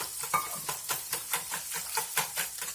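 A leek omelette mixture frying in a pan and stirred briskly, with rhythmic scraping strokes several times a second over a soft sizzle, close and steady.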